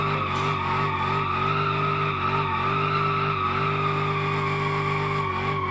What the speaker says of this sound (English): I like drifting now.